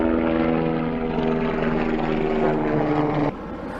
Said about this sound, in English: Comes a helicopter.